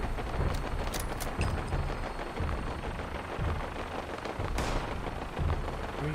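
Gunfire in the Pantheon video game, several sharp booming shots and bursts at irregular intervals over a dense, rumbling background.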